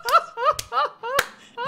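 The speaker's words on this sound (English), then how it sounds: "I had to clap for that." Hand clapping: a few sharp, isolated claps spaced apart, mixed in with excited laughing vocal sounds close by.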